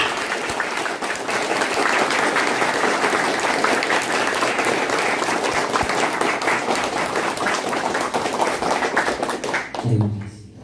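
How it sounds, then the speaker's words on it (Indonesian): Sustained, dense applause from an audience at a corporate brainstorming session for PT Best Eco Racing, loud and steady for about ten seconds before tapering off abruptly near the end. "Maka aplaus yang meriah untuk diri kita, untuk orang-orang yang kita sayangi."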